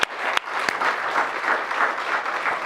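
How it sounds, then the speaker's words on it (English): An audience at a police therapy dog swearing-in ceremony breaks into a burst of applause. Steady, dense clapping from a moderate crowd fills the room for the whole stretch, with a couple of sharper claps standing out near the start. "If everybody can just join me in giving them a round of applause"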